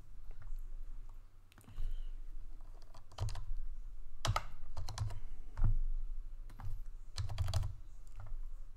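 Rapid clusters of keystrokes on a computer keyboard while statistical frequency values are entered, loud clicking bursts separated by short pauses.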